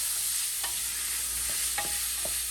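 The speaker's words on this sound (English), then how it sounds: "2 stalks of celery, about 8 cloves of garlic. I'm just gonna stir that" Stirring celery and garlic as they cook in a pot for seafood gumbo, a few soft scraping strokes of a spoon over a steady low sizzle, close and fairly quiet with no talk.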